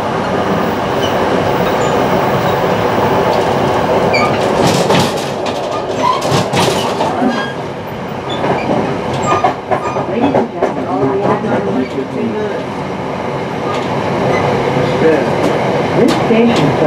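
An NJ Transit train pulls into Trenton station with a heavy rumble, clattering wheels and squealing brakes as it slows alongside the platform, loud and close, with voices in the background.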